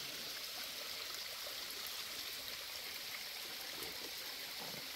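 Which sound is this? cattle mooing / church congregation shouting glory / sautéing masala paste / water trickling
water trickling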